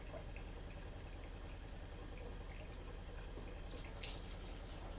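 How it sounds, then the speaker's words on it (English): Water runs steadily from a tap fed by a tankless water heater, a soft continuous rush at a moderate flow, with a slight surge partway through. "We're going to go ahead and turn the water on, and we're not going to turn it on super high."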